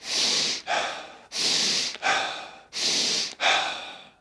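A person demonstrates fast, hard breathing for a low anaerobic breathing gear: three pairs of forceful, close inhale-exhale breaths in a steady rhythm, with no talking.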